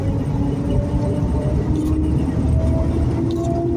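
Car cruising in third gear with a suspected bad transmission bearing, giving a steady low drivetrain rumble with faint whining tones running through it for a few seconds. A voice speaks briefly over the engine noise.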